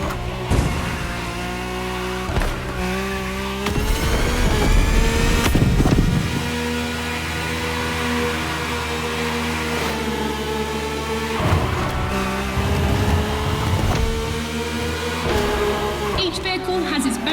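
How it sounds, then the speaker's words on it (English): A rally car engine racing in The Crew Motorfest video game, revving and surging in waves under background music while a narrator talks throughout. "The rally car has already changed its course to reach the dirt."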